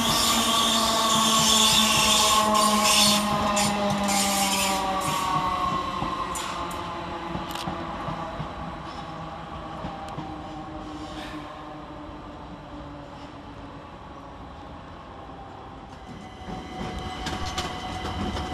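Class 321 electric trains pull into Stratford railway station, a loud rumble and brake squeal close by that eases into a quieter rolling hum as they slow.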